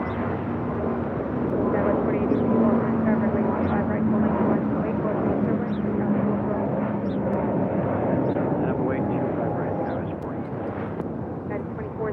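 An American heavy airliner taking off from runway 25 right at LAX, a steady, loud, broad jet roar that swells slightly mid-way and holds throughout.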